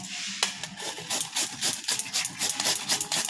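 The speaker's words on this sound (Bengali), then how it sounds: "প্রতিটা আমি ঘষুনি দিয়ে একই রকম করে এভাবে করে পাতলা পাতলা করে ঘষে নিচ্ছি" Green papaya being grated by hand on a grater into thin shreds, a steady run of close, rasping back-and-forth strokes with no talking.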